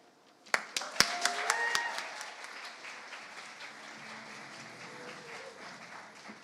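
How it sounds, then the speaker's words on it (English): An audience at a student union election results night applauds the organizing team, a few sharp individual claps first, then a modest round of clapping that gradually tapers off, with faint voices underneath. "A big applause for you guys."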